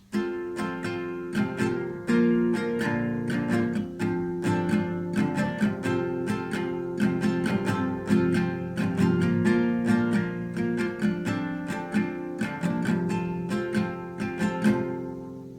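Close acoustic guitar plays an easy Valentine's love song verse through twice, with a steady strumming pattern of ringing chords and regular bright strokes, unaccompanied and with no talking.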